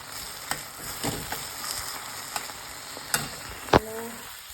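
Paneer is stirred and fried in a garlicky spinach gravy with a constant sizzle. Spoon scrapes and knocks against the pan land at irregular moments, with one sharp metallic clank near the end, and no voices.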